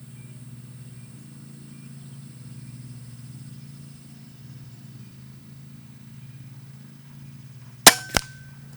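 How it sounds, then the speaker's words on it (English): Side lever cocking of a Hatsan Nova QE .25 PCP air rifle, two sharp metallic clacks in quick succession near the end after a stretch of low background hum. "Its side lever cocking is on the heavy side and is a bit notchy"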